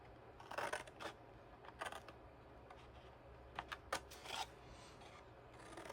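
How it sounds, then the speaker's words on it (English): Paper or card being cut for a mini book, with a few short crisp snipping or slicing bursts spread over a quiet background, fairly faint and close, no talking. "I'm going to cut right down through here."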